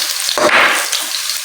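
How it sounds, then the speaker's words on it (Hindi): Red chilies sizzle and fry in hot oil alongside browned onions, a loud, close, bright crackling hiss with a brief burst as they hit the pan. "ये मैं इसमें जो है वो रेड चिली डाल रही हूँ, ये भी इसके साथ ही फ्राई हो जाएंगी।"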